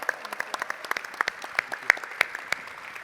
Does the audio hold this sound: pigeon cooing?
no